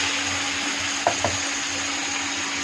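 Ginger, garlic, onion and tomato paste fries in a pan with a steady close sizzle, broken by two quick scraping stirs midway, over a faint constant hum, no voices.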